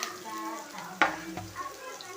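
Drumstick leaves tipped onto fried onions in a pan and stirred, a soft sizzle with a sharp clatter of the leaves landing midway, then scraping of a spoon, close and moderately loud without talk.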